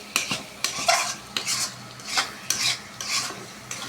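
Spice masala for tender goat curry fries in a pan while a spoon scrapes through it in steady strokes, roughly one every half second, each stroke raising a hiss of sizzling over a constant low fry.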